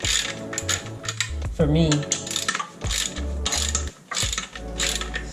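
A ratchet clicks steadily, loosening heavy pressure plate bolts on a Jeep Wrangler JK clutch, close and loud in bursts of rapid pawl ticking with short pauses and a brief metallic clank.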